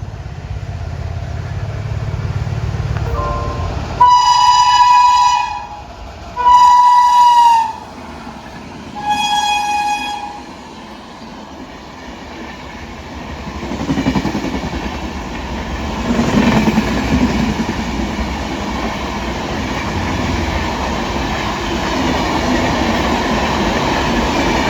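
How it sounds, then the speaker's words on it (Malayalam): Vivek Express racing through Trikaripur railway station, a small station, with a loud multi-tone horn sounded three times in quick succession, then a sustained rumble and clatter of coaches passing close by without a stop. "ഇപ്പോൾ തൃക്കരിപ്പൂർ റെയിൽവേ സ്റ്റേഷൻ സ്കിപ്പ് അടിച്ചിട്ടത് ഇന്ത്യയിലെ ഒരു നാറ്റക്കേസ് വണ്ടികളിൽ ഒരെണ്ണമാണ് കേട്ടോ"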